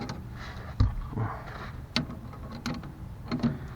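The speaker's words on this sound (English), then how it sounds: "Let's get our ratchet on there." A ratchet clicks in short bursts of metallic pawl ticks while it tightens a sway bar bolt on a Ford Explorer, with small mechanical knocks between them; the ratcheting is close and fairly quiet, with no talking.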